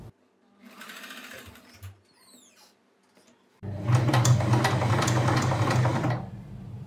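A sewing machine stitching a churidar neck starts with a few quiet clicks and fabric handling, then runs in a steady, loud whirring burst for about two and a half seconds before slowing.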